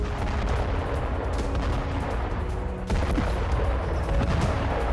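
Artillery fire from an attack by Ukraine's 3rd Brigade in Bakhmut: a continuous, dense roar of booms and rumbling blasts that holds steady for the whole stretch, with a sharp surge near the middle and no voices.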